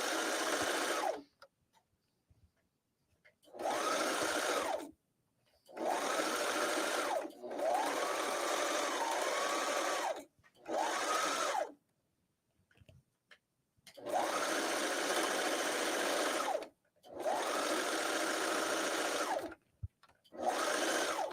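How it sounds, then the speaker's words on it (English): A Brother Airflow serger stitching along a fabric edge runs in repeated bursts of rapid whirring, each lasting a couple of seconds, separated by short pauses, close and loud. "I'm using the Brother Airflow serger"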